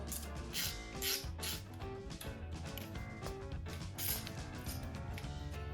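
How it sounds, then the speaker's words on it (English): A hand ratchet tightening a bolt on a KTM 450XC-W dirt bike, giving rapid close-up clicking bursts in a regular back-and-forth rhythm with brief pauses between strokes. "Then I'm gonna tighten it back down."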